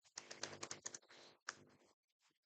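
Quick clicking keystrokes on a computer keyboard while typing HTML code, a dense burst of taps followed by a shorter second burst and then near silence.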